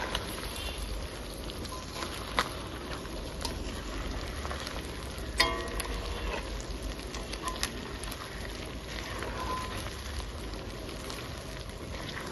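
Pieces of meat frying in a pan after their liquid has cooked off, a steady dense sizzle and crackle running continuously throughout, with occasional louder pops and no talking.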